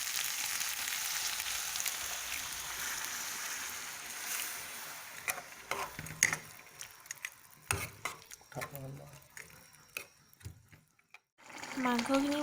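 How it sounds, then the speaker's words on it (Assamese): Water is poured into a pan of frying local chicken for an Assamese chicken curry, with loud stirring and scraping giving way to sharp bursts of sizzling and bubbling, followed by a short lull and a renewed hiss. "এতিয়া মই পানী দি দিওঁ।"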